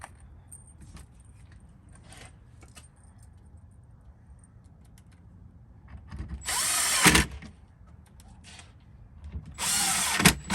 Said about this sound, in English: we'll attach these with the 1¼ inch screws.